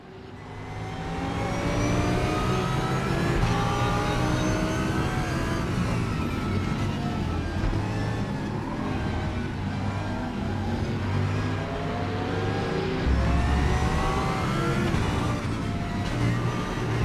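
Race car engine in RaceRoom Racing Experience, droning and revving continuously with rising and falling pitch through gear changes, loud and close with no talk.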